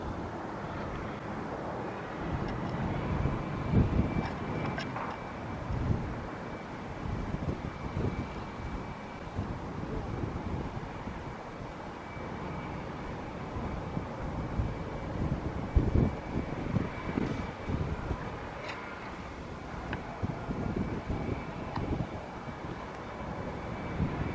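Gusty wind buffets a camera microphone outdoors at a construction site in Las Vegas, producing loud, uneven low rumbling bursts that swell and fade throughout with no clear speech.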